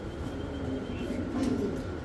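Doves or pigeons of the White Beauty breed, a breeding pair kept for eggs and chicks at a pigeon sale centre, give low, soft cooing near the close amid a steady murmur of background noise, with no talk.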